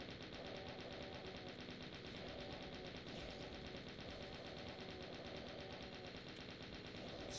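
Rapid, continuous gunfire in a Doom WAD as the player pours bullets into an enemy. A fast, unbroken rattle of shots plays faint and steady throughout.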